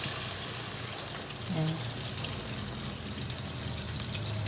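Water is poured into a pot for chicken soup, a quiet steady stream with a short gurgle partway through, under soft background noise.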